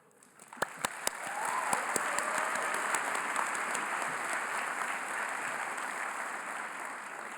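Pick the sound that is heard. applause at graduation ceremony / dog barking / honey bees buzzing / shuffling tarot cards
applause at graduation ceremony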